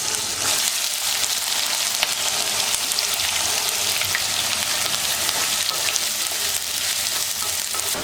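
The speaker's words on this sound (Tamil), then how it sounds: "இப்போ வெங்காயம் போட்டுக்கலாம்" Onions hit hot oil in a pan after mustard seeds and garlic, for a tamarind okra curry, giving a loud, continuous hissing sizzle with faint crackles throughout, no voices.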